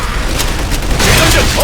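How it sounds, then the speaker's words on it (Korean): A gun is reloaded in the online shooter game Hounds, with brief, loud mechanical clicks and a ratcheting clack amid dense game noise. "재장전한다."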